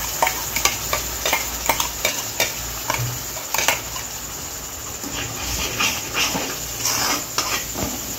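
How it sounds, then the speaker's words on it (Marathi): Masala paste sautéing in a pan on a home kitchen stove, with repeated scraping and clinking of a spatula against the metal pan over a soft, steady sizzle. "मसाल्याचा कच्चा पण जाईपर्यंत आपण त्याला परतून घ्यायचंय"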